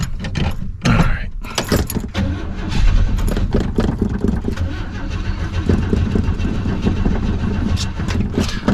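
A 1955 Chevy with a failing carburetor cranks and sputters, the engine churning loudly and unevenly for several seconds without settling into a steady idle, with close mechanical rattles over it.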